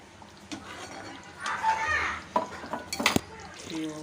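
Utensil scraping and clinking inside a cooking pot of ragi and black urad dal side dish, a few short stirring strokes with faint sizzling in the background.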